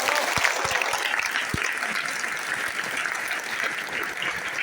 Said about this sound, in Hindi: सारे लीडर के लिए एक बार जोरदार ताली बजाएं।